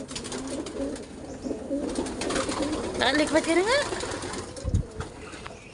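Soft pigeon coos rise and fall in the middle, under people talking close by, with a brief thump near the end.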